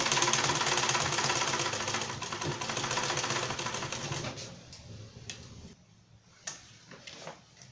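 Sewing machine stitching down a two-piece shirt collar, running steadily and fairly close for about four seconds, then stopping and leaving a few light clicks and handling taps.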